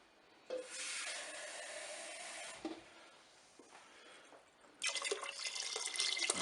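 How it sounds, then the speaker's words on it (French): Water poured into a Cookeo multicooker pot while making lentil minestrone, a steady splashing pour that stops briefly then returns louder and brighter near the end, close and alone. "Je vais rajouter un petit peu d'eau,"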